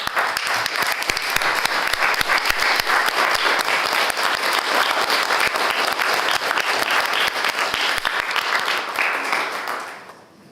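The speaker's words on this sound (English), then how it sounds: "So please give them a round of applause." A state senate chamber fills with sustained, dense applause from many people clapping at once, holding steady for about ten seconds before quickly fading out at the end.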